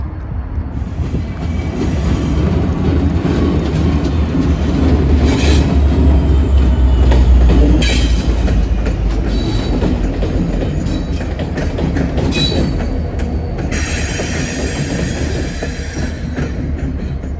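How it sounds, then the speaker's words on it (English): Two BNSF ACe locomotives lead CPKC freight 247 through Bensenville Yard, a loud, steady rumble of rolling cars with wheel squeal and rhythmic clickety-clack close by throughout. "Next, we'd see two BNSF aces for the motors of CPKC 247 working in Bensonville Yard."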